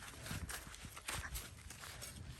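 A horse being ridden outdoors clip-clops along at a steady walking rhythm, its hoofbeats faint and somewhat distant against low background noise.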